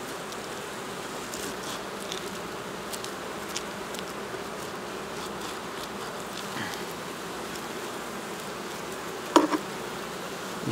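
Honey bees crowd over hive frames thick with extra comb, making a dense, steady buzzing drone throughout with a few brief louder passes near the end; no one speaks.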